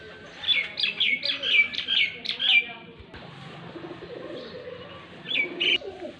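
A newly trained pigeon in Faisalabad is released to fly, with bird coos and chirps repeating in quick bursts for the first half, then quieter ambient noise before a few more calls near the end.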